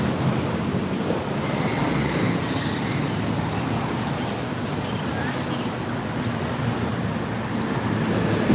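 A Bangkok SkyTrain rolls past on its elevated line, giving a steady, dense rumble with thin, high wheel squeals drifting over it throughout.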